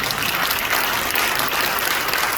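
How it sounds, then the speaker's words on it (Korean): Steady, dense applause from an audience at a Korean church assembly gathering, filling the room evenly and continuously with no voices heard over it. "우리 뜨거운 박수로 한번"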